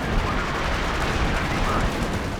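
Artillery fire rumbles through a Company of Heroes 2 match, a dense, continuous roar of distant gunfire and blasts that fills the whole short stretch.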